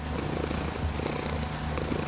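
A ginger cat purrs steadily and close up, a low continuous rumble with a soft rhythmic pulse that carries on without a break for about two seconds.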